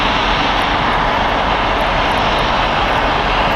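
A Boeing 787-8 Dreamliner arriving at LAX airport gives a loud, steady jet-engine roar that holds constant throughout, with no voices over it.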